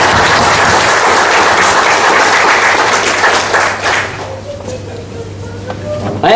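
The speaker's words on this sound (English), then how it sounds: "please give this set of office bearers a big round of applause" Audience at a Toastmasters club installation applauding new office bearers, loud sustained clapping that fades out toward the end.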